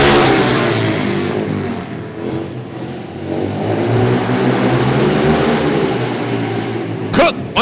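Race cars roar and rev through a heat race, with a loud, continuous engine note that rises and falls as the throttle opens and closes, and a brief extra burst near the end.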